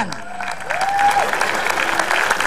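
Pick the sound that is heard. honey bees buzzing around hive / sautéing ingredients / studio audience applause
studio audience applause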